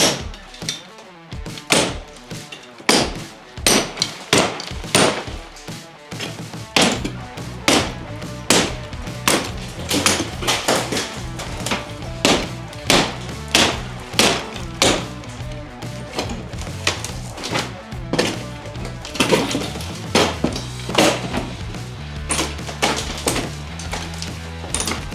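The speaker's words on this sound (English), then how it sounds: "I'm not cutting anything, just carefully breaking all this out." Repeated hammer blows breaking out an interior wall in a house being remodeled, loud and close, landing in an uneven but steady rhythm with cracking and falling debris between strikes.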